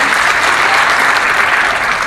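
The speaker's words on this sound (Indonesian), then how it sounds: "Tepuk tangan buat Mas Haidir." Loud, dense audience clapping for a man named Mas Haidir at a gathering, continuous and close throughout with no voices over it.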